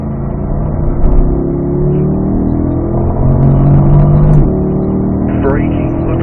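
Race car on the Spring Mountain North Course accelerating out of a curve, a loud steady engine drone rising in pitch under an instructor's voice talking throughout.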